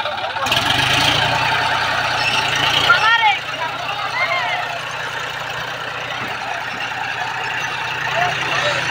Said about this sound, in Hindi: अपना ट्रैक्टर जो है ये कचरा वाला टोटो को निकल कर लेके आया बाहर